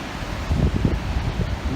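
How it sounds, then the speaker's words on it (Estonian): Wind outdoors at Palli on Hiiumaa, gusting over the microphone in soft low buffets and rustling bursts, fairly loud and close, with no talking. "Tuul tuleb ka."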